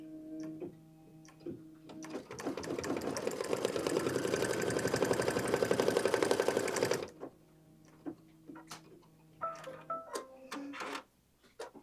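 A sewing machine runs a collar placement stitch in one steady, fairly loud burst of about five seconds, with soft clicks and handling noises before and after.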